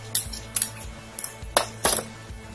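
A metal spoon stirs tomato puree into ginger-garlic paste in a pan, giving about five close, sharp clinks and scrapes against the metal at uneven intervals.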